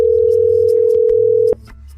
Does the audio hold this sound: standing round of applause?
no